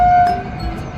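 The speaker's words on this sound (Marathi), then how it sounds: "एक मालवाहू ट्रेन या ठिकाणी पास होते।" A freight train passes through hill country, heard as a brief, loud rumble with a steady horn-like tone at the start, fading slightly within a second.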